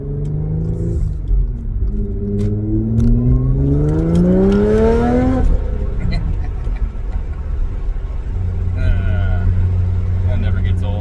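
Tuned car accelerating hard through the gears, engine revving up in rising sweeps and dropping between shifts, loud and close, then settling into a steady drone; a voice speaks over part of it.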